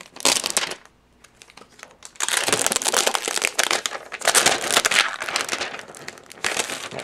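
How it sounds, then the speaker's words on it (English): Plastic wrapping crinkles and crumples as it is peeled off a Microsoft Surface tablet, coming in loud, close bursts with a brief quiet gap between them. "Let me take off the plastic wrapping here"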